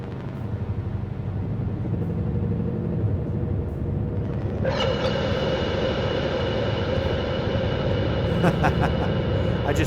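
A modular synthesizer drenched in heavy reverb with self-feedback builds a massive, sustained roaring drone that suddenly brightens and swells about halfway through, alone, with no talking.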